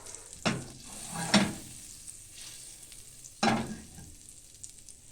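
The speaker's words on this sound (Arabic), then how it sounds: "ونبدأ نقلبها كده تقليبة كده في الزبدة والسمنة" Sliced onion frying in melted butter and ghee, a steady sizzle broken by three louder bursts of stirring, close and alone with no voices.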